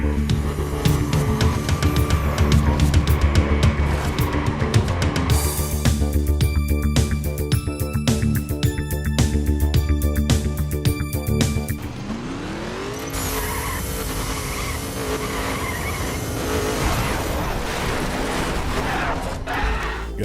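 Racing game car engines in The Crew, an open-world driving title on PlayStation 4, rev and roar loudly and continuously under a music-like tonal bed, with tire squeals and a shifting engine pitch in the later half.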